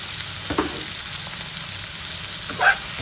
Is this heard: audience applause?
no